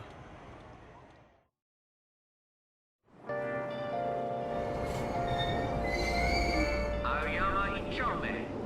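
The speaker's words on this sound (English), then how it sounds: "Train doors are now closing. Please stand back." A Persona 5 Royal video game train rumbles with squealing wheels and tonal mechanical whines after a short silence, steady and fairly close, with a faint voice announcing the doors are closing at Aoyama-Itchome beneath the noise.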